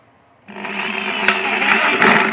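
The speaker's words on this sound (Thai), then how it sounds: "แล้วตรงนี้เราก็เจาะเยอะๆเลยนะครับเพราะว่าเดี๋ยวจะให้ลมผ่าน" A power drill starts up and whines steadily while boring many airflow holes in a homemade evaporative cooling fan built from waste materials, a loud, continuous motor drone with slight load changes as it bites.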